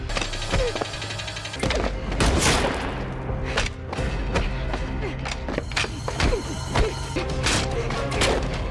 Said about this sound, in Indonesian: Tiba-tiba Xiaonan menyerang dan membanting gadis ini.